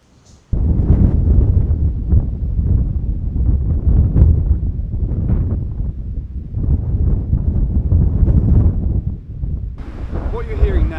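Heavy wind buffets a Sennheiser MKE 600 microphone outdoors in loud, rumbling gusts that continue throughout, with no clear voice above the roar.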